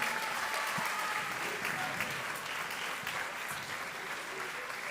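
At a French slam poetry league competition, a crowd applauds the poets after their scores, steady clapping filling the room at moderate loudness.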